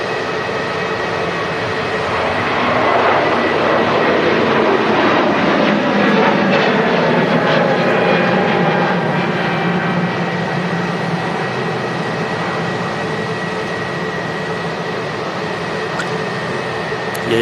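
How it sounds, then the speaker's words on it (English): Singapore Airlines Airbus A350-900 jet with Rolls-Royce Trent XWB engines at Manchester Airport, a sustained loud engine roar and whine that swells and then holds steady, with occasional talk over it. "Singapore A350-900, number 2 of today. This will be heading direct to Singapore itself. Oh, them Trent XWB engines looking gorgeous"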